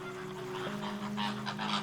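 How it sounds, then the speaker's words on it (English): Migratory geese give a run of honking calls over a steady droning background, several honks close together and fairly loud. "These elegant birds, with their distinctive calls and graceful movements"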